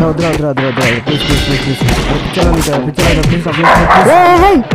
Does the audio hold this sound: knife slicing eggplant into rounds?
no